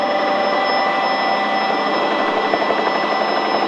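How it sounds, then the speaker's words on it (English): Helicopter engine and rotor running steadily at a remote landing spot during hurricane relief flights, a continuous loud whine and whirr with no talk over it. "you're creating a helicopter pilot right now"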